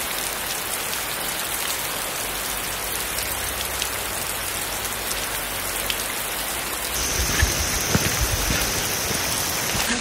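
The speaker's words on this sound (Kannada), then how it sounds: "ಮಳೆ ಅಂದರೆ ಸಖತ್ ಬರ್ತಾಯಿದೆ" Heavy monsoon rain falls on a trek in the Western Ghats near Chikmagalur, a dense, continuous roar of drops that swells slightly louder toward the end, with no voices.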